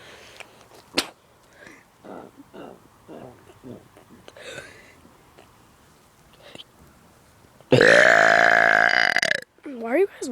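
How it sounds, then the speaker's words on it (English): A child lets out one long, loud, gravelly burp up close, followed by a shorter second burp, after quieter moments of talking and small mouth noises. "watching a kid burping on the internet"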